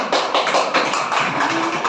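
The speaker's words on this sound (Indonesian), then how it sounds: "tepuk tangan" A classroom of students claps together in a brief, steady burst of close applause with no talk over it.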